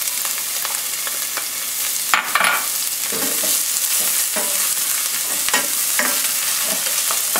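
Onions fry in a pan with saffron for Persian kashke badam joon, a steady close sizzle punctuated by frequent clacks and scrapes of stirring, with no voices.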